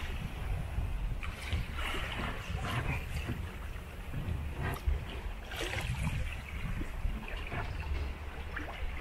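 Sailboat motoring under engine at sea near Guernsey and L'Herbaudiere, a steady low engine drone mixed with water wash and wind rushing past, continuous and moderately loud with no talk.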